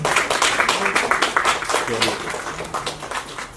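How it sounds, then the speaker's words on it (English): An audience at a wellness and spiritual awards ceremony breaks into a dense round of clapping that holds at a fairly even level, with a little talk mixed in underneath. "A big round of applause to all of you"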